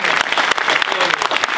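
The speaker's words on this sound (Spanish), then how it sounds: "quiero pedir un aplauso para el compañero Pablo Carro, candidato" Crowd applause at an economic book presentation event in Argentina, a short, dense spell of many people clapping with distinct slaps, with a faint voice beneath.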